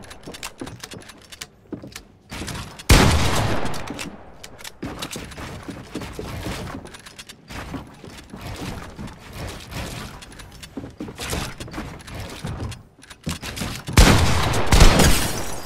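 Gunfire from an online shooter video game during an arena fight, with sharp, loud blasts and rapid bursts scattered across the stretch, heaviest near the start and end, over busy game noise.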